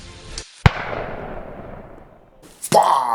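A sudden whoosh as rum in a hot pan flares alight for a flambé, followed by a fading crackle, then a second burst of flame near the end.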